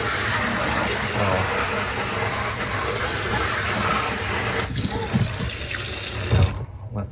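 Water gushes steadily from a tap in a garage, running a part under a strong, hissing stream for cleaning and soaking, close and constant until it cuts off abruptly near the end.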